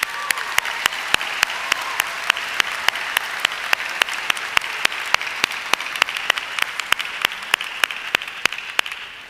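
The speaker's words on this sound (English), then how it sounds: "That deserves a round of applause." A high school graduation audience applauds for an honored graduate, the broad wash of clapping holding steady for several seconds, punctuated by sharp regular clicks throughout.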